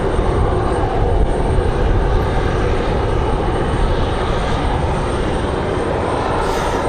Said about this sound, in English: Got that C-130 turning in the wind.